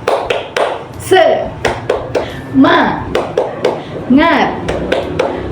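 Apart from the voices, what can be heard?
class doing 'tepuk semangat' rhythmic clapping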